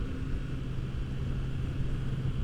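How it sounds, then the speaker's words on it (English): A Kawasaki Z900 RS motorcycle engine runs with a steady, low, continuous rumble, fairly faint and with no voices. "Oh, that motor just sounds so fantastic."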